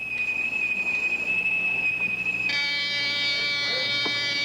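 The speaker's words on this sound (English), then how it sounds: "That's the photoelectric detector. It sounded 40 seconds after the first ionization." A photoelectric smoke detector's alarm sounds as a loud, steady, piercing electronic tone. About halfway through, a second harsher, buzzier alarm layer joins it.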